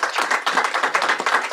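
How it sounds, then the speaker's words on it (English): Audience applause for a group working in Ukraine, heard at a public forum with elected officials: close, loud, quick rhythmic clapping from many hands in a short burst. "give you a round of applause"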